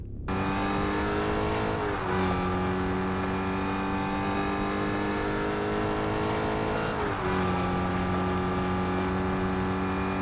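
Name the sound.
Fortnite muscle car engine with loud supercharger, from a video game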